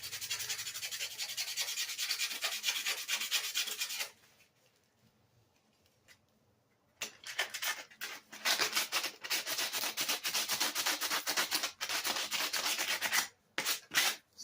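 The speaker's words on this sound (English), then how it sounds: "I am the sanding machine." Hand sanding of a Murray 450 Series 20-inch push mower part: steady close scratchy rubbing strokes, a pause of about three seconds, then more brisk sanding with a few short breaks.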